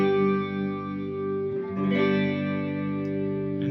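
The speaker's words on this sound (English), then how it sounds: "And that's your G bar chord." G barre chord strummed on an electric guitar, a single chord ringing out clean and sustained, then strummed again more softly around the middle.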